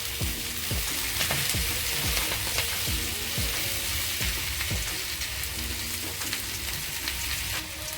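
Spinach and shrimp fry in a pan with a steady, dense sizzle, while a utensil stirs and scrapes at a regular beat from start to end.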